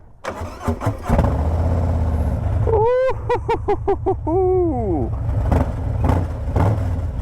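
A Harley-Davidson Street Glide ST motorcycle with a Vance & Hines exhaust cranks and fires, then revs up in several loud, throaty bursts before settling into a rumbling idle; a person briefly exclaims.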